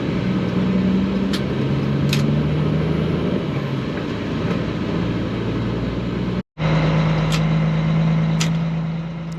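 A heavy AB triple road train truck towing three trailers drives through Katherine, its engine a steady low drone with road rumble throughout, broken by one brief cut near the end.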